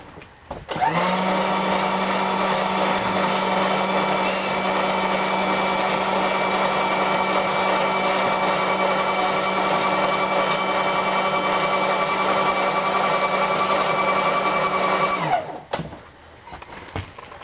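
Steady machining drone of a milling machine trimming a metal part for a mill cutter sharpener build, a constant loud tonal whine that starts abruptly, holds for about fifteen seconds, then spins down, with no talk.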